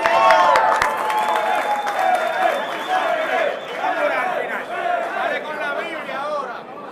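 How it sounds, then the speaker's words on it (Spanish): A crowd at a live rap battle applauds and cheers after a round ends, with chatter and voices mixed through the steady clapping. "Un aplauso"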